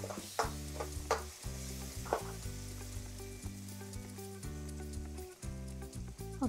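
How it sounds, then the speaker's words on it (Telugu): Pasta is stirred and fried in chili over a high flame, giving a continuous sizzle with scraping stirs under a loud, layered background of steady tones. "మంచిగా కలుపుకోవాలి అడుగంటకుండా, ఎందుకంటే హై ఫ్లేమ్లో పెట్టా కదా అందుకు,"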